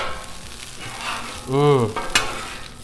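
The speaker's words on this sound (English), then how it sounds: "Oh yeah, we're getting a nice little sear on them hashies" Hash browns for a Spanish omelette sear on a Blackstone griddle with red onion and egg, a close, steady sizzle and scraping spatula strokes, with a short tonal squeak in the middle.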